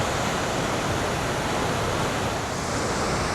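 Cumberland Falls waterfall in Kentucky, running murky after a recent flood, gives a steady, dense, loud roar of rushing water with no pauses.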